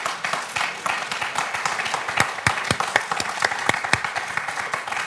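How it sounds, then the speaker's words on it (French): Studio audience applause on the French TV quiz show Questions pour un champion, a dense burst of many hands clapping that stays fairly even for several seconds, with no voices over it. "Et Jean-Marie applaudit au point de Nolwenn"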